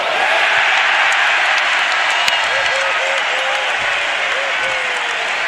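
A packed NBA basketball arena crowd roars and cheers steadily, a dense loud wall of noise with scattered whistles and shouts, and a commentator's voice faintly underneath.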